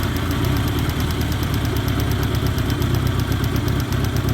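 A 1986 Honda Goldwing GL1200 Interstate motorcycle engine idles steadily up close, with a loud, even low rumble and no talking.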